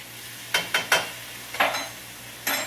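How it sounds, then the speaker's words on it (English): Garlic tossed into a hot pan for scallopini sizzles in several sharp bursts, each flaring loudly then fading, close and clear with no talking. "We're going to add a tablespoon of garlic."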